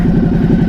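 A 2021 Ducati Hypermotard 950 RVE Edition motorcycle idling, its exhaust giving a loud, close, deep and steady throb with a fast uneven pulse.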